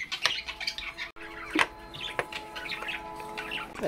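Birds squawk and chirp outdoors in short, scattered calls of moderate loudness, with no voices over them.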